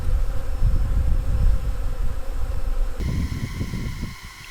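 Honey bees from a newly installed package swarm around a wooden hive box in mid-April, a dense steady hum filling the clip close to the listener, with no voices.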